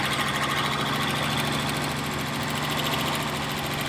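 Steady, even idle of an engine fitted with a Zenith 3540 carburetor, a constant low rumble with a faint rhythmic knock, heard close with no talking.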